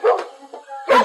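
A dog gives two or three quick, close barks and yips in a little over a second, loud and clear against an otherwise quiet background.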